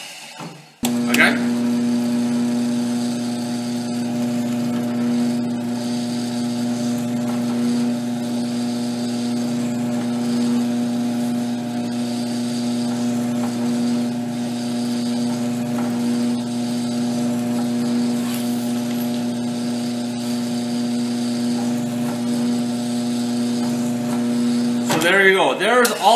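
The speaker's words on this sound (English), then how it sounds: "So we'll drill out all of our holes." A drill runs with a steady, loud motor hum for a long stretch, drilling out holes in aluminum for a Jeep build, starting and stopping abruptly at either end.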